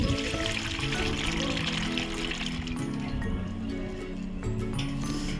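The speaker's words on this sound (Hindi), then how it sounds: "अब हम डालेंगे पौधों में पानी" Water is poured from a filled container onto potted plants, including a wilting curry leaf plant, in a home gallery, making a steady, close splashing and trickling that runs without a break.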